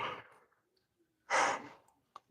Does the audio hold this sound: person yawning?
yes